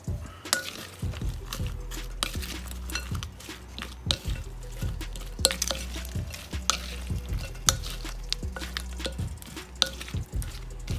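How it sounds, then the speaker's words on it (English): Filipino sisig is stirred with lemon juice in a pan. The spoon knocks and clinks on the cookware in a steady rhythm over a soft sizzle, with no voices. "Go ahead and mix this up."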